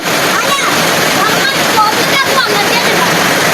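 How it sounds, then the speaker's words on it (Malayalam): Steady heavy rain with rushing water flowing across a road, a loud continuous wash of splashing and gurgling. "മഴയാണ് ഇപ്പോൾ ഈ റോട്ടിലൊക്കെ നന്നായി വെള്ളം കയറിയിരിക്കണ്"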